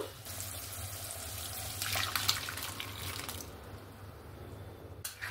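Lentils poured into a pan of fried spices for a mixed dal, a steady liquid pouring rush that swells midway and then settles into a quieter hiss, with no talking.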